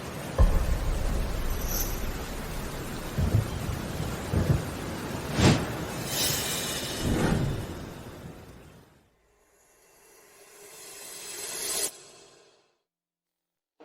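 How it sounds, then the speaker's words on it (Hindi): Heavy rain with thunder: a dense rush of rainfall broken by several sharp thunder cracks and rumbles, then a sudden drop to near silence before one more swelling rumble fades out. "बारिश और तेज हो रही है।"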